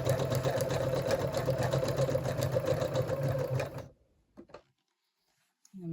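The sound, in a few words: sewing machine stitching around a letter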